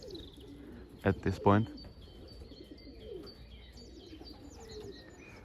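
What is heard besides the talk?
racing pigeons cooing after arriving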